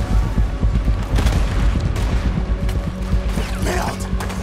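A cannon fires at a boat in the video game Red Dead Redemption 2, a dense run of heavy booms and rumbling blasts with clanking mechanisms, loud and continuous with shouting voices mixed in.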